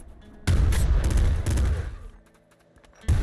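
A grenade explosion in Nuclear Throne, with a sudden loud burst that decays over about a second, a second blast soon after, then a quieter lull before another sharp hit.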